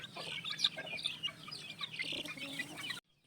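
Young chicks of mixed ages, about three weeks to a month old, cluck and cheep together with older chickens in a scratch pen on a gamefowl farm, a steady close chorus of overlapping peeps and clucks that stops abruptly near the end.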